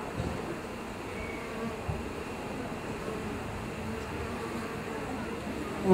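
A dense, low buzzing of many honeybees clustered as a bee beard on a person hums steadily and close, a soft continuous drone with faint background noise.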